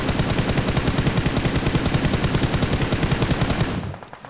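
Rapid automatic gunfire from PUBG Mobile rattles in a fast, even burst of dozens of shots, loud and close, cutting off abruptly near the end.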